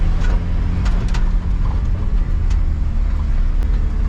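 A Chevrolet C20 truck engine runs at a steady idle, a continuous low rumble close to the recorder, loud and unbroken with no speech.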